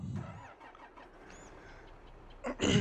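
Tractor engine in the Farming Simulator video game cranking and firing up near the end, a short loud burst after a quieter rumbling stretch with faint game sounds.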